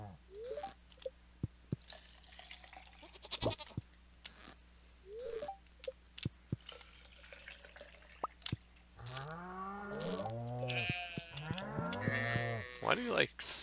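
Cattle mooing in the Stardew Valley farming game, several drawn-out low moos overlapping near the end, with scattered clicks and soft game ticks earlier and no talking.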